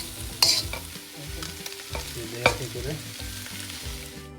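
Vegetables being stir-fried in a pan for chicken fried rice, with steady sizzling under repeated scraping and tossing strokes from a spatula, close and fairly loud.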